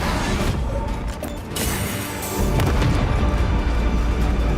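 A melta bomb explodes in the video game Warhammer 40,000: Space Marine 2, heavy booming blasts and crashing impacts with a deep rumble swelling toward the end.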